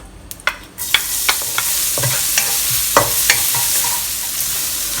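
Five cloves of chopped garlic hit leftover oil in a pan and erupt into a loud sizzle after a few clinks, then keep frying steadily under light scrapes and stirring taps, with no voices.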